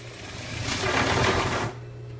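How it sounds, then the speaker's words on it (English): A sewing machine runs a steady stitching burst along a pant skirt seam at a 1/2 inch allowance, close and fairly loud for about a second, then stops, leaving a low motor hum. "So you can pin around here, and my seam allowance was a 1/2 inch, so I'm going to sew at a 1/2 inch."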